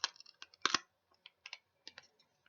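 A 100% recycled paper tea bag pouch is popped open up close, giving a quiet series of sharp crinkles and papery clicks with short pauses between them.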